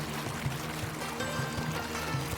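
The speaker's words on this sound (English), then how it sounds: "You swim through a dark hallway and find a secret waterfall that makes the" A hidden waterfall inside a water-filled cave in Oman gives a constant rushing, echoing roar of falling water, steady and enveloping with no voices.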